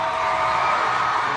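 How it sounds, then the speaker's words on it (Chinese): A crowd of fans screaming at a celebrity appearance, a dense, sustained high-pitched roar of many voices, steady and loud throughout. "尖叫声一片"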